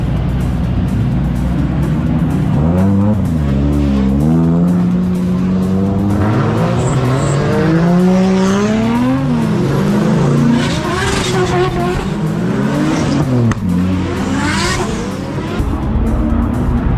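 Drift cars at a Drift Games spring bash event scream through revving, sweeping engine notes with tire squeal, loud and continuous across the whole stretch, with crowd and paddock noise underneath.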